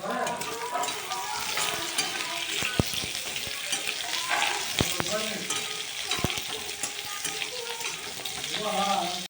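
Onion, garlic and ginger fry in a home kitchen wok, a steady crackling sizzle broken by a few sharp scrapes and clinks of the stirring spoon.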